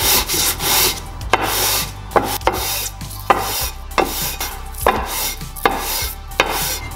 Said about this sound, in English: then you just stroke the face of the case across the sandpaper